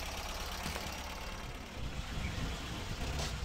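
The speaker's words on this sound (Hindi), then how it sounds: "आइडल की आवाज़ भी आप सुन सकते हो।" A Tata Nano's engine idles during repair of a coolant leak and overheating problem, a faint, steady low rumble with a light irregular ticking, no talk.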